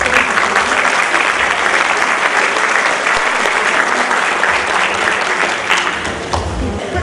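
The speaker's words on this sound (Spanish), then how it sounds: "Un aplauso para ustedes." Sustained audience applause at an education forum in Samacá fills the room, dense and steady for several seconds before easing slightly near the end.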